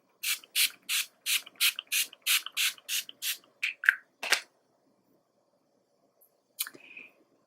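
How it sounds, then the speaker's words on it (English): A rapid series of about a dozen short spritzes from a makeup setting spray bottle, evenly spaced and close, then a couple of softer sprays after a pause. "Just a few spritz of this to really ensure our makeup."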